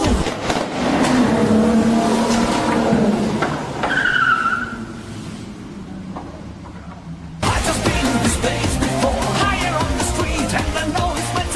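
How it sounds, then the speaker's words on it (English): A sports car passes on a quiet rural road, its engine rising loud and close and then fading, with an abrupt burst of tire skid and motor noise near the end. "Do you hear that sports car?"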